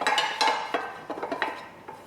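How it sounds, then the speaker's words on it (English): Clinks and scrapes of a utensil against a metal baking tin while it is lightly greased, several quick bright taps and rubs close up, with no talking. "So I want to lightly grease my tin."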